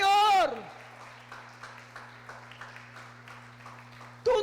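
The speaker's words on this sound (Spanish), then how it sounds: "Si le va a aplaudir, apláudele bien" A church congregation at a Sunday service claps in scattered, steady applause for several seconds, moderately loud, with a sung or spoken voice briefly at the start and end and a low sustained organ-like hum beneath.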